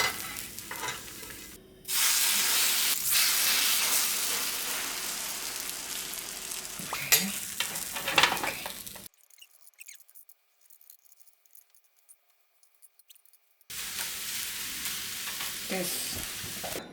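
Food stir-fries in a flat pan without raised sides, a loud steady sizzle with scraping stirs, broken by a few seconds of near silence before the frying picks up again.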